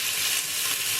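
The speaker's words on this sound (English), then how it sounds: "What I have in here is just seasoning sauteing. To have assorted sweet pepper, garlic, and onions." Assorted sweet peppers, garlic and onions sauté in a pan, a steady bright sizzle close by and alone for about a second.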